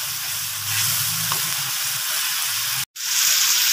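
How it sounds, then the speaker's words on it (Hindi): A green chili and tomato paste masala being fried in a pan for a turnip, potato and pea dish. Loud, steady sizzling and hissing fill the clip close up, broken by one brief silent gap, with no talk. "हरी मिर्चों का पेस्ट शामिल करके इसको अच्छे से भूनूंगी"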